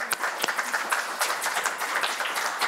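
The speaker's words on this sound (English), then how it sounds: "I think that deserves a round of applause as well" An audience at a STEM talk claps in a brief, moderate round of applause, individual claps audible in a quick irregular patter.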